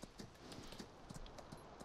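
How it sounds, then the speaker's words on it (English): Rhythmic clip-clop of hooves trotting at a steady pace in a farming video game, crisp and close, with faint background noise. "We can trot. We're trotting right now."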